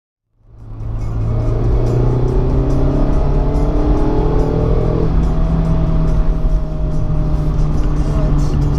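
A Subaru STI engine starts and settles into a loud, steady rev with a deep rumble, rising in pitch briefly, close by and continuous throughout.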